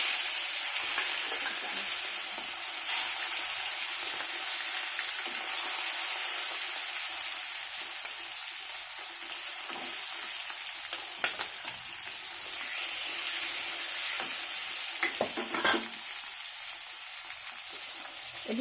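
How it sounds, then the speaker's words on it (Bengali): Fish frying in hot oil in a wok makes a continuous close hiss and sizzle with scattered crackles and a few spatula scrapes, long and even. "এই দেখো কড়াইটা কিন্তু গরম হয়ে গেছে তেলটা। তো এখন আমি মাছ ভাজা জড়াবো।"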